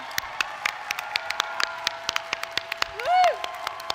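At the UTHealth Houston School of Public Health 2026 commencement, an audience applauds the graduates with steady scattered clapping across a large hall, and a single whooping cheer rises briefly near the end.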